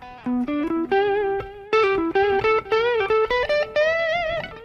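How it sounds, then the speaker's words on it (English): An electric guitar plays through a Line 6 Pod Express preset with a slight echo and mild gain, a melodic line of plucked single notes in short phrases, clear and upfront. "It comes with a little bit of echo."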